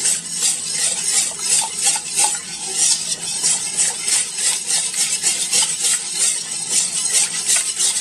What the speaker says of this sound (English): I'm just going to whisk it.